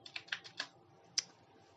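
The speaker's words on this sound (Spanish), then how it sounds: "voy a teclear mi título y le pondremos nota de venta" A computer keyboard being typed on at a desk: a quick run of four or five soft, close keystrokes followed by a pause and one sharper final tap, quiet and alone.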